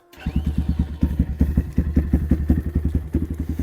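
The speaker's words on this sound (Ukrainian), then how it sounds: "Все холодне і ось так він у нас заводиться." A cold GEON GNS 300 motorcycle engine starts and settles into a rough, rapid idle, with loud, close, regular thumping firing pulses and some mechanical clatter throughout.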